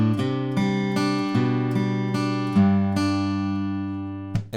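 An electric guitar plays the post-chorus part of a song, picked notes and chords struck in an even rhythm, each ringing out and decaying, close and clear with no talking.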